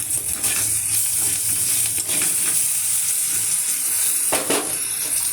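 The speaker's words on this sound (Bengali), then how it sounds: "অল্প সুন্দর করে ভেজে নিচ্ছি।" Food frying in a pan gives a steady, close sizzle throughout, with a few brief scraping stirs and no talking.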